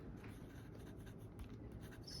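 Fountain pen nib scratching across paper, a Sailor pen inked with Sakura ink and writing somewhat dry, heard as a faint, steady close-up scratch with small stroke-like pulses and no talk.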